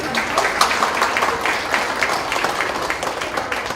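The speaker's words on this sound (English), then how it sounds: "They're clapping for you already, Dominique, before you come out, Dominique." Audience at a Southampton County Public Schools board meeting claps for a student award, a dense, steady wash of many hands, close and fairly loud, running unbroken throughout.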